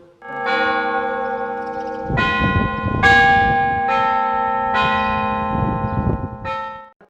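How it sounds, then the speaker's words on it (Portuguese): A small hand bell rings in several bright, ringing strikes at a steady pace, each tone lingering and fading before the next one. "O Eliel pediu pra tocar o sininho. Toca o sininho, toca o sininho."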